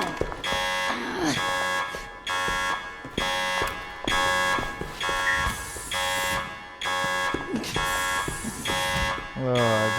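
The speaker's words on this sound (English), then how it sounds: "Will you fucking turn that bastard buzzer off in me ear?" Security breach alarm buzzer blaring in repeated loud pulses with a steady rhythm, a harsh tonal buzz that starts and stops about once a second, with voices talking over it.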